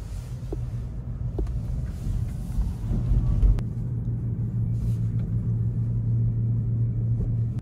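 Low, steady road rumble and tyre hum inside an electric car during normal driving on the way to Costco, with a few faint clicks and a brief swell near the middle.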